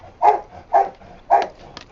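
A dog at a dog hotel barks three times in a close, evenly spaced burst, each bark short and loud, with a faint yip trailing after.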